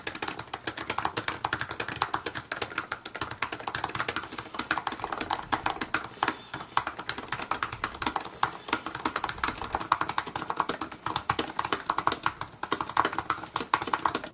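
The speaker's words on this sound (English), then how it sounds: "let's go ahead and take a listen to the keyboard in action" Rapid, continuous clicking of keys being typed on a 2017 Apple 12-inch MacBook keyboard, close and steady, with no voices.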